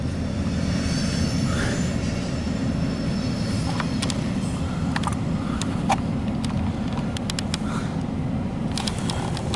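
A loaded CSX coal train, B667-10, runs eastbound on the tracks with a loud, continuous rumble and roar of railcars rolling past nearby, with occasional metallic squeaks and clanks over the steady noise.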